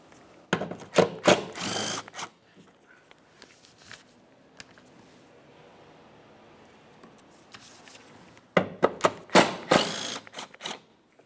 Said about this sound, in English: we'll continue on removing the bracket by removing these 2 10mm headed mounting bolts